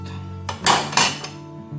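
Swordfish tartare is moved into a bowl with a few close clinks and scrapes of a utensil against dishware, two louder knocks standing out in a quiet kitchen.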